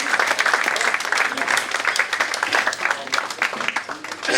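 A crowd at a football fans forum keeps up a loud, continuous round of applause, thick and sustained from start to finish, with a few voices under the clapping.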